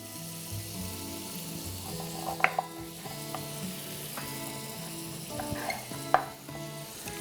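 Butter frying in a pan over medium heat while fish is being prepared, a steady soft sizzle with occasional stirring and scraping clicks throughout.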